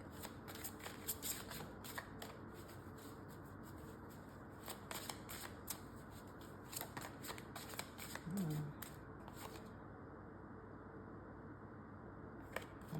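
A deck of tarot cards is shuffled close by in quiet, repeated riffles and soft flicks, with a brief pause near the end.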